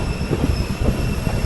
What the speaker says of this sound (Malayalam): ജസ്റ്റ് ഓപ്പോസിറ്റ് ലൈനിൽ ഒരു ട്രെയിൻ വിട്ട് വരുന്നുണ്ട്.